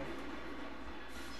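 Steady rumble of a subway train on the underground stage of Mortal Kombat Armageddon, a continuous low rolling drone with rail noise that holds even throughout, with no voices.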